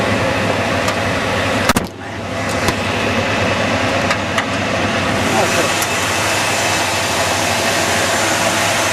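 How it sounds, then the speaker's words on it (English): A 1968 Buick Electra convertible's engine idles high on its automatic choke, a loud, steady running drone with a couple of brief clicks and knocks near the start. "So that's the engine running. Now what you'll notice is that the engine is revved up because the automatic choke is on."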